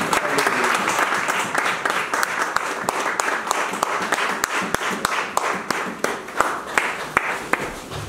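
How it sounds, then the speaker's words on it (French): Church congregation at a Sunday service breaking into sustained applause in praise of Jesus, a dense, steady wash of many hands clapping with sharper individual claps standing out, loud and close, a few voices faint underneath. "On va acclamer pour le Seigneur Jésus"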